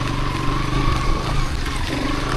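A 125cc motorcycle rides along a wet, rainy hill road in Lamjung. A steady engine drone and road rumble carry through the whole stretch, close and fairly loud, with no talking.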